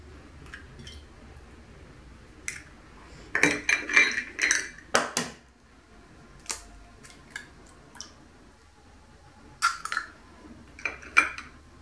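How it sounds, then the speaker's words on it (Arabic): Two eggs are cracked into a mixing bowl for a no-knead liquid pizza batter, with sharp taps and clicks against the rim in small clusters, close and fairly crisp in an otherwise quiet kitchen. "غادي ناخذ الاناء اللي غادي نخدم فيه، غادي نغرس فيه جوج البيضات."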